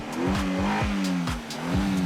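A cartoon pig's yellow rocket car revs on a race track, a close, steady engine drone with rhythmic rising revs and brief whooshes, alone without talk.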